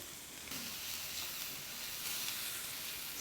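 Onions and garlic stir-fry in oil with a continuous, even sizzle that swells slightly as they are tossed, close up and fairly quiet, with no voices.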